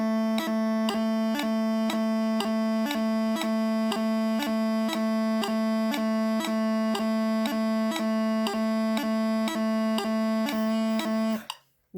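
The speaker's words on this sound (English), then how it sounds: "That happens to be 40 beats per minute of jig time, but it's broken down into triplets" Bagpipe-style grace-note triplets at a slow jig tempo of 40 beats per minute ring out as a sustained drone broken by evenly spaced, crisp repeating blips, steady and alone until a sudden stop.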